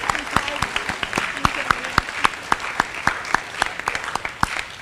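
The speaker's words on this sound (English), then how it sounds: "Let's give them one more round of applause." An audience at a school awards assembly claps for the wrestlers, with sharp individual claps standing out in an uneven rhythm and voices chattering underneath.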